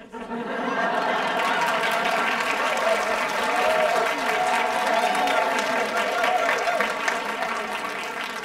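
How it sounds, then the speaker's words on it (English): A concert audience at a Handel's Messiah performance applauds steadily, a broad sustained wave of clapping mixed with crowd murmur and some voices. "applause that you gave the solo."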